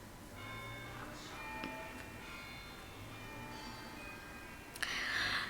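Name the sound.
jingle bell ringing in the background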